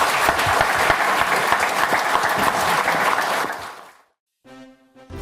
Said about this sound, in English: big round of applause for our folks.